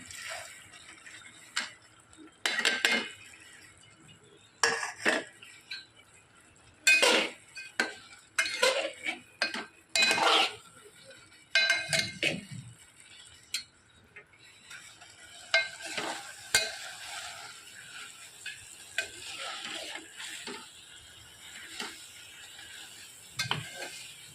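Moth beans rattle and scrape on a hot griddle as they are dry-roasted and stirred, in irregular bursts of dry clatter with quiet gaps between.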